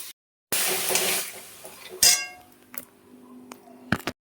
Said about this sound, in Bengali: এবার সামান্য একটু জল দেব, দিয়ে ভালো করে এটাকে কষে নেব